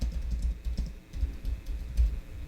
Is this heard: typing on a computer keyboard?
yes